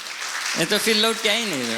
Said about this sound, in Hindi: आओ जोर से ताली बजा दें